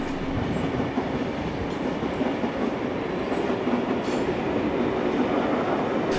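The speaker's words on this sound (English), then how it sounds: "While a Tangara train makes its way towards Sydney." A Tangara electric train heads toward Sydney past a heritage-listed station, a dense, continuous close rumble with faint wheel clatter and light high squeals throughout.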